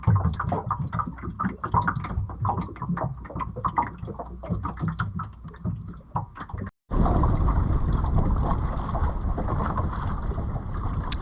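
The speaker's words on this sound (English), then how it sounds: "the beautiful chuckling sound they make when they're cruising along" Water laps and chuckles continuously against a small clinker-built wooden Ilur cruising dinghy sailing in light conditions, close and fairly quiet, with a brief gap before louder rushing resumes.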